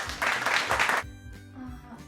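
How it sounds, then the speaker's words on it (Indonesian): A small classroom group claps briefly for about a second of quick, fairly close applause, after which the room falls quiet. "Berikan tepuk tangan"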